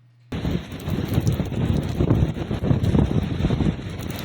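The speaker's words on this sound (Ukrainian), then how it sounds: "Ураганний вітер, 8-метрові хвилі та зливи вщухли надвечір неділі." Hurricane-force wind lashes the Crimean coast during a Black Sea superstorm with 8-metre waves and downpours, a loud, continuous roaring and buffeting that starts abruptly after a brief silence and surges unevenly throughout.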